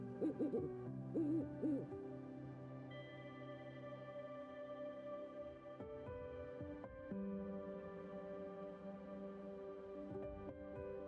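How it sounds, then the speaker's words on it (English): A barred owl in wooded canyon country gives a series of rhythmic hoots early on, fairly close, then sustained tonal drone and music-like layers carry on beneath and after the calls. "It belongs to the barred owl, a forest bird that has claimed these wooded canyon walls as its own"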